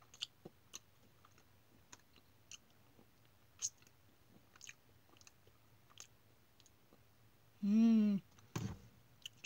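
Soft, quiet chewing of a raspberry cream-filled chocolate, with faint irregular clicks and mouth sounds close up, then a brief louder unrelated clatter near the end.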